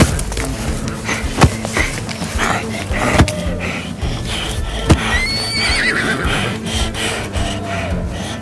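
A horse whinnies in a high, wavering cry near the end, preceded by sharp knocks and rustling handling sounds close by.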